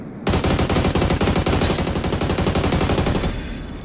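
Rapid, loud bursts of gunfire in a battle royale video game, continuous and close for several seconds before stopping abruptly, with no talk over it.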